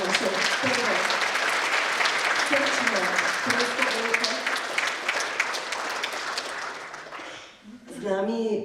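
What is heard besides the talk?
audience applause for volunteers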